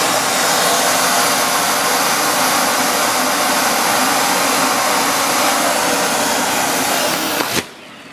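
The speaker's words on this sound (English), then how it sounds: "then I'm gonna turn the vacuum cleaner on and just watch this" A vacuum cleaner pulls air out of a storage bag packed with a blanket or quilt, a loud, constant whooshing drone that runs for several seconds and then abruptly shuts off, with no talk.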